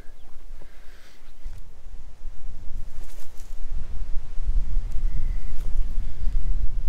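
Steady wind in the Australian outback buffets the microphone with low rumbling gusts that build and grow stronger toward the end, with no voices.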